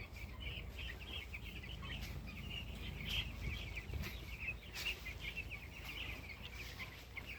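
Chicks on a 1000-bird poultry farm in a 1700-square-foot shed keep up a continuous high chorus of faint, overlapping cheeps over a low steady hum.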